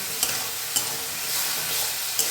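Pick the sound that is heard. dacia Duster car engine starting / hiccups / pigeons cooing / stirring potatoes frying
stirring potatoes frying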